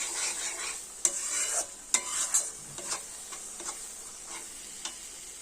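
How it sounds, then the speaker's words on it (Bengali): Chicken gizzard and liver masala being stir-fried in a pan, a soft, close sizzle with a few sharp scrapes and taps of a spoon at irregular intervals, quiet overall. "মশলাটা খুব ভালো করে কষাতে হবে"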